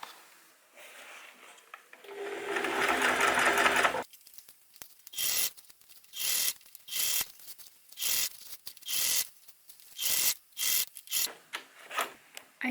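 A sewing machine stitches ultralight daypack fabric, with a sustained run of stitching up close followed by a series of short, rhythmic bursts of stitching separated by brief pauses, no talking.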